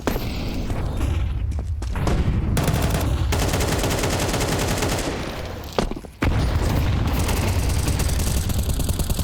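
Counter-Strike esports grand final action with AK rifles spraying: dense, loud, continuous bursts of automatic gunfire and booms, briefly dropping out near the middle before the shooting resumes just as heavily.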